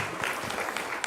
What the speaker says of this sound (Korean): 우리 다시 한번 박수로 한번 격려하고 축복하겠습니다